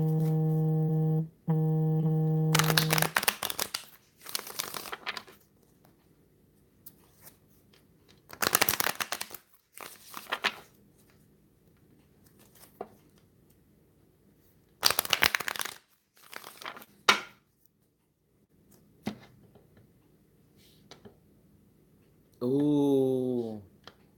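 Tarot-style cards shuffled for a daily reading, in several quick rustling bursts separated by quiet pauses, with a short tonal sound at the start and a brief voice near the end.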